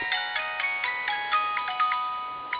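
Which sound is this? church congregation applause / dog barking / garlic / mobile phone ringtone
mobile phone ringtone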